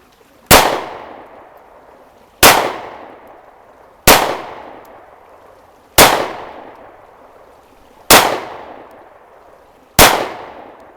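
Six loud, sharp pistol shots ring out from a Smith & Wesson M&P 2.0 Compact, evenly spaced about two seconds apart, each followed by a short echoing decay, with no talking.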